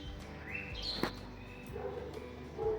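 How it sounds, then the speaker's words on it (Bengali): Birds calling outdoors on a rooftop in autumn morning air, with several short high chirps and whistles scattered over a steady background hum, fairly faint and distant. "কি সুন্দর পাখি ডাকছে শুনতে পাচ্ছেন"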